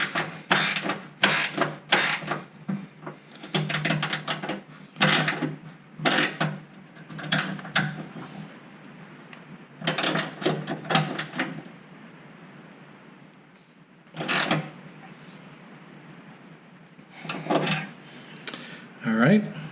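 A ratchet tightens the fender bracket bolt of a hood lift kit in quick, close bursts of sharp clicking, separated by short pauses.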